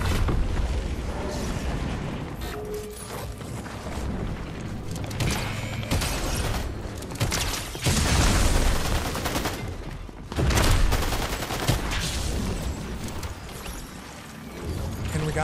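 Rapid bursts of automatic gunfire and booming explosions in Fortnite, during a match featuring Deadpool and Wolverine, rattle loudly and continuously across the whole stretch, with heavier volleys clustering in the middle and near the end, and no talking over them.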